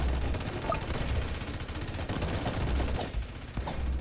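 In Roblox Tower Defense Simulator, a level 3 minigunner tower fires rapidly and continuously, a fairly quiet, dense crackle of game gunfire with other game effects mixed in.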